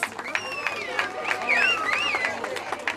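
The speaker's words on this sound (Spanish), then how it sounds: "Un fuerte aplauso, por favor." A crowd at an international rafting awards ceremony in San Fabián de Alico applauds the men's rafting team with continuous clapping, sharp whistles rising and falling over it and a murmur of voices.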